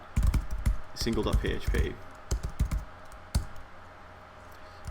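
Keys click on a computer keyboard as a file name is typed, with quick bursts of taps mixed with someone talking close by.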